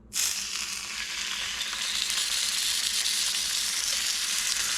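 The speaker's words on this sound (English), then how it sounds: "we are going to sear our roast on all sides and get that nice brown color" Beef roast searing in olive oil in a cast iron pan over an outdoor fire pit, a loud, steady crackling sizzle that bursts in at once and holds without a break.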